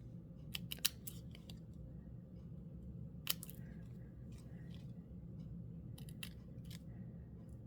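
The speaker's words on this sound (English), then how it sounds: "I'm just going to trim it off, going right along the edge of my egg." Scissors snip through paper along the edge of a cut-out egg shape for an Easter card, giving several sharp, close, crisp cuts in irregular clusters over a low steady background, with someone speaking briefly.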